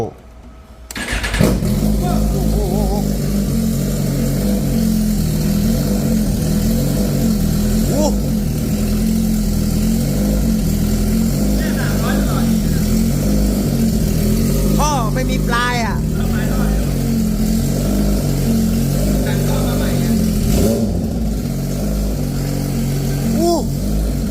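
Motorcycle engine starting with a loud catch, then idling steadily and loudly for the length of the clip with occasional revs, while people talk nearby over it.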